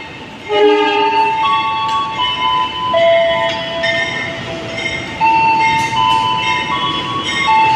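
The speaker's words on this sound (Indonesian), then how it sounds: "Jadi jalur 2 dari arah timur segera masuk kereta api Pasundan, tujuan akhir stasiun di arah Condong, Bandung." Pasundan passenger train arriving at Yogyakarta station on track 2 from the east, bound for Bandung, with loud sustained tonal horn or brake squeal tones over steady rail rumble that swell and shift as it rolls in.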